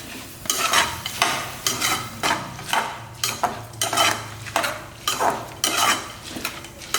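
Soaked rice for lemon rice being stirred and mixed in a pot, a spoon scraping and clanking against the metal in steady repeated strokes, close and fairly loud with no talking.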